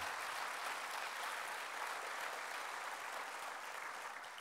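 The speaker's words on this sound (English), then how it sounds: "May I ask you a round of applause for the finalists?" Steady, even applause from an audience at a robotics awards ceremony, continuous dense clapping throughout with no break.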